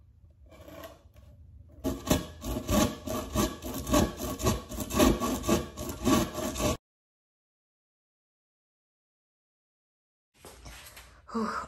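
A hand saw cuts wood to size for a planter box in quick, rhythmic back-and-forth strokes, close and loud, then stops abruptly before a brief resumption.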